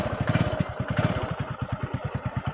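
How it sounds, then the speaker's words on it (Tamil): A used motorcycle at a used vehicle sales shop idles after a self-start, its engine putting out a steady, close, rapid thumping beat throughout with no talking. "இப்போ ஸ்டார்ட் பண்ணுறேன் பாருங்கள் வண்டியை."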